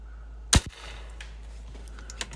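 A Diana XR200 .30 caliber PCP air rifle fires once, a sharp, loud, close crack that dies away almost at once. Quiet background hum follows, with a faint tick near the end.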